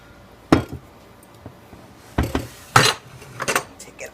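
Chocolate chips stirred into muffin batter in a mixing bowl, giving a few sharp clinks and scrapes of a utensil against the bowl, spaced irregularly with quiet gaps between.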